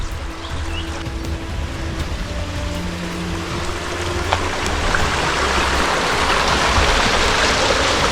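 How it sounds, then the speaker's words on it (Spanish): Water flowing in a wild, overgrown creek while someone walks up the streambed, a steady rushing wash that swells louder toward the end, with faint splashes and no voices. "Al final me he metido por el arroyo"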